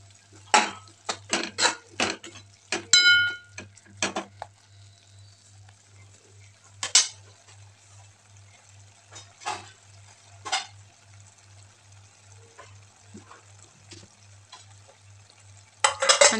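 Spinach bhaji with red chili stir-fried in a pan: a rapid run of close spoon scrapes and clanks against the pan, then sparser stirring strokes spaced several seconds apart over a faint steady hum, with no voices.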